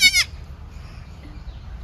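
A goat gives one short, loud bleat at the very start, close by, followed by quiet low background rumble with no further calls.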